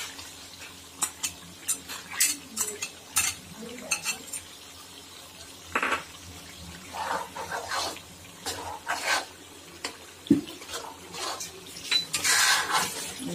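Onions are stirred into chicken kadai in a pan, with scraping spoon strokes and clanks over a light sizzle, close and intermittent.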